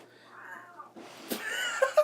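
A mother imitates a cat with a strained, wheezy meow, a voice mimicking the animal in short, rising, whiny bursts that grow louder toward the end, close and unaccompanied.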